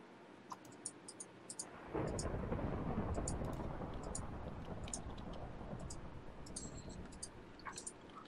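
A thunderstorm in Minecraft breaks in as a sudden broad rumble of thunder that rolls on and slowly fades, with a few faint clicks scattered over it.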